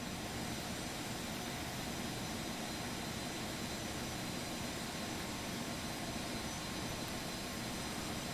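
A Phenom 300 business jet taxiing in the X-Plane 11 flight simulator, its engines giving a steady, dense whine and rumble that holds unchanged throughout.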